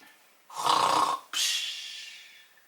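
An adult imitates snoring to lull a baby at home: two loud, drawn-out snore sounds, a rasping inhale followed by a breathy exhale, close to the microphone with no talking.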